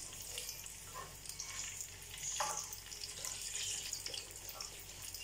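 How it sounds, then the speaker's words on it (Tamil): Vadagam fries in oil with a soft, even crackle and hiss throughout, broken by a few faint bubbling pops and stirring sounds at a moderate distance. "இப்போ வந்து நம்ம கருக விடாமல் வறுத்துக்கணும்."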